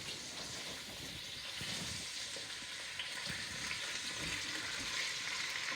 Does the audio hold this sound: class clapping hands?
no